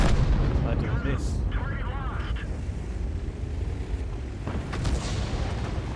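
A deep booming tank gun blast from World of Tanks, heavy and rumbling, with rolling battle noise and someone talking over it.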